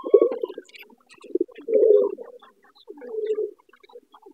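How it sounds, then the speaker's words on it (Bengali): A Giribaz pigeon beside its two chicks gives several low, throaty coos in uneven bursts, close and fairly loud, with quiet gaps between the calls. "এই কবুতরটা গিরিবাস কবুতর,"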